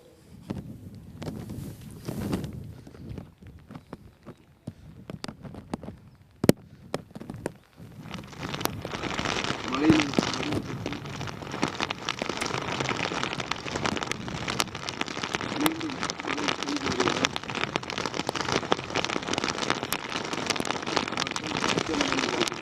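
Heavy monsoon rain pours over a flooded area of Rameswaram near Pamban, starting patchy with scattered drops and knocks, then building after a few seconds into a dense, steady roar that holds to the end.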